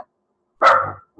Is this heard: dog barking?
yes